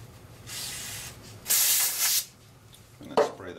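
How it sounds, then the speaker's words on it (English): Bursts of cheap aerosol brake cleaner sprayed onto a rag in a workshop during a Storebro Bruk lathe gearbox reseal, two hissing sprays of about a second each, followed by a short rustle. "I'm gonna spray the rag"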